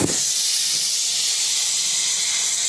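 Butter melting in a very hot wok gives a loud, steady hiss that starts at once and holds evenly from start to finish, with no voices.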